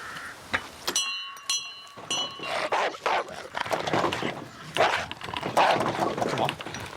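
A big dog barks behind gates, a few sharp barks near the start, then footsteps and movement follow with faint voices.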